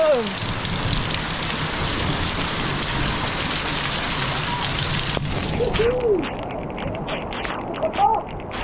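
Steady heavy rain hisses close by during a storm as a voice speaks over it; the downpour softens partway through, leaving patter with occasional voices.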